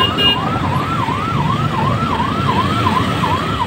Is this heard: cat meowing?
no